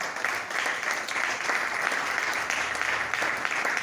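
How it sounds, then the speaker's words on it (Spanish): A church congregation applauds at a Sunday service, steady dense clapping that fills the room for the full few seconds at an even, moderate level with no voices standing out. "Den un fuerte aplauso."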